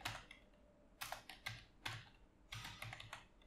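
Quick bursts of keystrokes on a computer keyboard as a command is typed, close and crisp in irregular clusters with short pauses between them.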